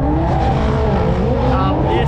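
Drift cars sliding through a drift competition run, engines roaring loud and continuous with a rising, wavering tire squeal and commentators talking over the noise.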